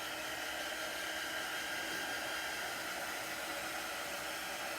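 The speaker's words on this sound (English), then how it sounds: "So what I'm using is a heat tool." A heat tool blows hot air to dry chalk paste on a craft project, giving a steady, even, fairly quiet whooshing hiss with no talk.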